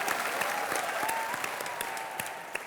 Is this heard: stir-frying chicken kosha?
no